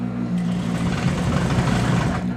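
Home sewing machine running at a moderate pace while stitching a garment seam with an in-seam pocket, a steady low mechanical whir that holds continuously throughout.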